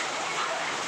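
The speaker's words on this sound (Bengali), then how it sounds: "এই দেখেন প্রচুর বৃষ্টি, এই দেখেন প্রচুর বৃষ্টি।" Heavy rain falls in Dhaka as a dense, even hiss that lasts the full second.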